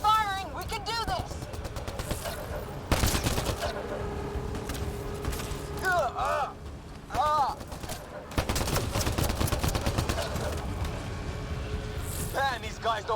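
Gunfire during a firefight in Mass Effect: Andromeda: heavy overlapping rapid shots and blasts come in dense stretches, broken by whining weapon sounds and short pauses, close and loud.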